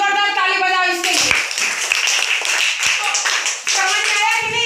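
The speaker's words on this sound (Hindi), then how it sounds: "जोरदार ताली बजाओ इसके लिए" Schoolchildren clap loudly in a classroom, a dense burst of hand claps in the middle, framed by a voice talking before and after, near and energetic.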